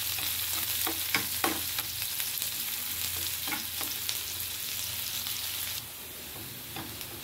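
Finely chopped onion fries in a pan for street-style boiled egg bhurji, giving a steady soft sizzle with a few scraping stirs of a spoon. The sizzle quiets slightly near the end, and no one speaks.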